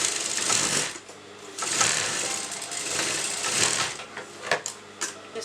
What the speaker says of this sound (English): Now we are going to sew the down part of the